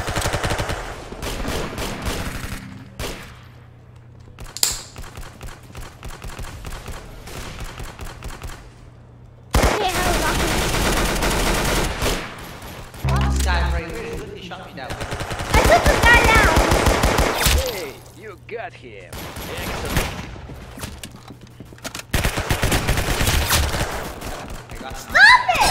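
Rapid automatic gunfire from the Roblox shooter game Arsenal rattles in repeated loud bursts, with short gaps of quiet between volleys, and single shots mixed in.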